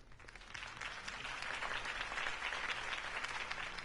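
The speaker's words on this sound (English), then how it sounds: "If only Mr. Wayne, my campaign's largest backer, could have heard that applause" Steady crowd applause in Telltale's Batman video game, a dense wash of clapping after a campaign speech, moderately distant and continuous for a few seconds with a low hum beneath.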